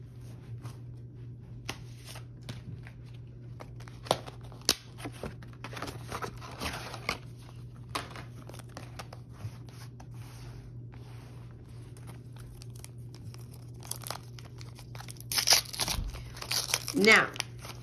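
Pokémon card booster pack from a McDonald's 25th anniversary promo being torn open, giving crinkly foil crumpling and tearing rustles, louder toward the end, over a steady low hum.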